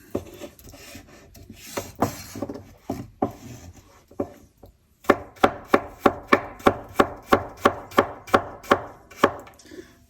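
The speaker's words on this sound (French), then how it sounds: "Essayez de faire des coupes un peu régulières." A knife chopping potatoes on a board for a Spanish tortilla: a few irregular cuts, then a steady run of about fourteen evenly spaced, crisp close chops heard alone without talk.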